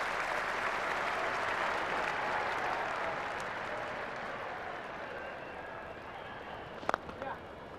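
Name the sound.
cricket crowd at Edgbaston applauding Trescothick's fifty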